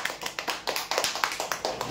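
Brisk applause at a prize draw for a dressing table winner, a run of sharp, close hand claps in quick rhythm, brief and fairly loud.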